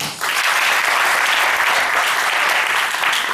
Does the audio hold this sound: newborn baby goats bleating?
no